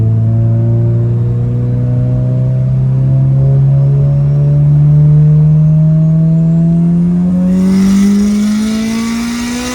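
A car engine, one that may not start and has a brand new battery fitted, runs loud and close throughout, its pitch climbing steadily in a long rev before a burst of higher roar near the end; no voices.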